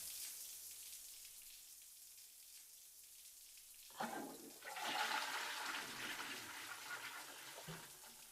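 Water from a shower starts suddenly after a quiet stretch, a near, hissing spray that splashes unevenly and keeps running.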